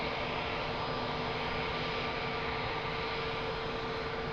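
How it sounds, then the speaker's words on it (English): Airplane on its flight to Amsterdam at Lisbon Airport, a steady, loud, broadband engine roar that holds unchanged throughout with no talk. "So this is the flight to Amsterdam"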